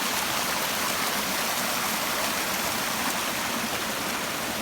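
Stream water rushing along the Massacre Grounds waterfall hike trail in Arizona, a dense, steady broadband roar of flowing water, close and constant throughout with no voices.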